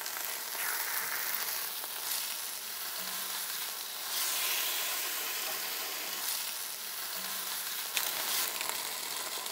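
Chicken marsala pieces sear in a hot pan with a steady loud sizzle and hiss that lasts throughout, with occasional soft clinks and a brief steam swell partway through.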